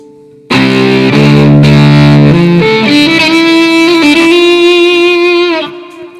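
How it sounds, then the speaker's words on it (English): An electric violin played through stacked overdrive and distortion pedals driving the tubes of a Dream amp IR pedal: loud, saturated sustained notes, a few bowed pitches shifting in sequence, ringing alone before fading at the end. "so my overdrive and my distortion pedals now have been stacked, and that's driving the tubes in the Dream"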